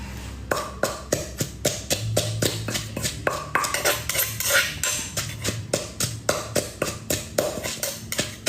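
Metal cutlery clatters and clinks in quick, close, repeated knocks while someone rummages for a spoon, a steady run of sharp taps over a low background murmur.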